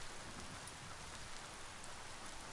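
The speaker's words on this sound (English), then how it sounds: "rain effects" Steady rain falls as an in-game weather effect in Biomutant, a dense, even hiss of drops on surfaces that stays constant and fairly close, with no voices or thunder.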